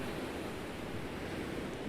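Ocean waves wash against the shore in a soft, continuous surf with a wind-like rush, faint and even throughout.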